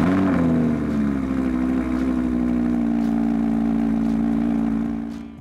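An Audi R8 V10 Plus supercar with S-Tronic gearbox fires up loudly, then a brief rev settles into a rich, steady idle that fades out at the end, with no talk.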